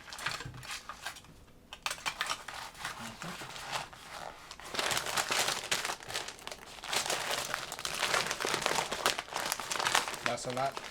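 Packing paper crumples and crinkles at close range in long bursts while a mover packs items for a house move. Someone talks over the rustling.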